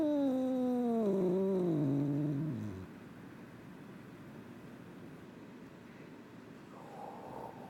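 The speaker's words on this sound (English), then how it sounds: "The alien cat, Pandora." A cat gives a loud, drawn-out, wavering meow with a falling pitch that lasts about three seconds up close, followed by a quieter, steady low rumble of purring.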